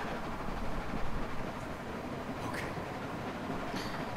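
A train rumbles along in The Walking Dead video game, a steady heavy roar with faint rattling and clacking, continuous and fairly loud without a break.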